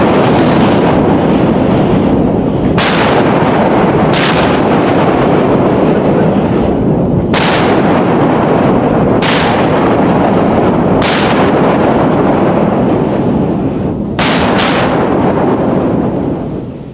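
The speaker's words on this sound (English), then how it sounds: "There are also 5-inch guns, which supplement the firepower of the main gun turrets." The 5-inch guns of the Iowa-class battleship USS Wisconsin fire about seven sharp, booming shots at irregular intervals over constant loud wind and sea rumble on deck.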